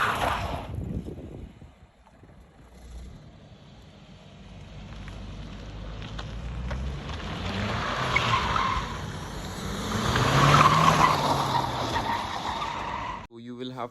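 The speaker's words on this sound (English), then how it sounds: "this car is 4-wheel drive, so I have drifted this around a few times as well" A manual BMW F30 3 Series with four-wheel drive, driven rear-wheel style with traction control off, skids and squeals its tires during a drift. Engine and tire noise swell and fade twice, close and fairly loud.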